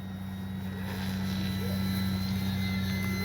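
An E-flite Timber radio-controlled airplane taking off, its electric motor giving a steady, loud drone with a strong low hum that swells slightly as it powers up, continuous throughout.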